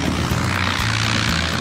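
Fixed-wing airplane engine droning steadily at an airfield near the runway, a loud continuous propeller hum with a low throbbing tone that shifts pitch slightly, with no voices.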